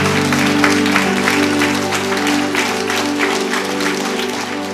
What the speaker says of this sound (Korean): 승리와 격려의 박수를 좀 올려드리겠습니다.